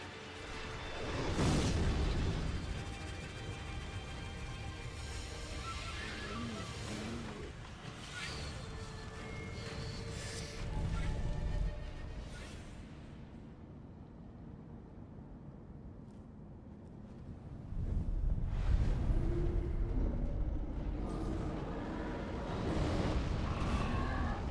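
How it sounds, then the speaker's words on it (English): Explosions in the video game Sekiro during a boss fight with gunners: several deep, rumbling booms spread across the stretch, loud and fairly near, with a quieter lull in the middle before another heavy blast. "He didn't even get a partial hit from the explosion that time."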